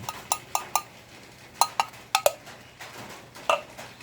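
A spoon clinks against a bowl while fern salad with sardines is mixed, giving about ten sharp, close ticks and clinks in irregular bursts over a quiet background.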